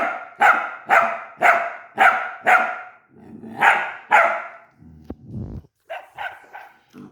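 A dog barks loudly and close in a rapid run of about eight sharp barks, followed by a brief scuffling noise and a few quieter barks at the end.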